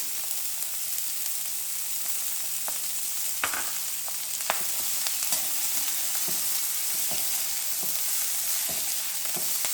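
Ridge gourd frying in oil with green chillies gives a continuous close sizzle, broken by occasional sharp utensil clicks and scrapes as it is stirred, no voices.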